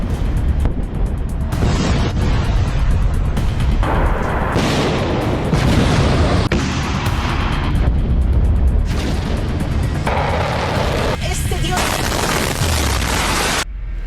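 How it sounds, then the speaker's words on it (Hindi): Iranian missiles are intercepted and explode over Tel Aviv, producing loud, dense rumbling booms and crackling blasts that overlap almost continuously throughout. "ईरान तेल अवीव को निशाना बना रहा है और इजराइल ईरान के मिसाइल को इंटरसेप्ट कर रहा है।"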